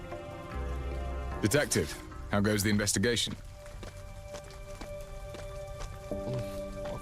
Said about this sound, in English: Nice rain effects though.